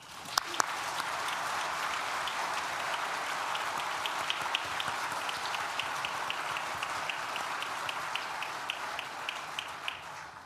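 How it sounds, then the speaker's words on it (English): An audience at a university graduation ceremony for architecture, design and built environment graduates gives a long, even round of applause, many hands clapping at steady volume, with a couple of sharp louder claps near the start. "Please join me in thanking them with a well-deserved round of applause."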